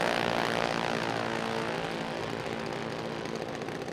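Dragster engines roar down a drag strip in a loud, continuous, dense blast that stays strong throughout and eases slightly toward the end.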